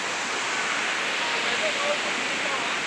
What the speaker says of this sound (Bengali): এই যে দেখুন মেন ঝর্ণাটা